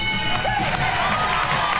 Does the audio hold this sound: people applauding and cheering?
yes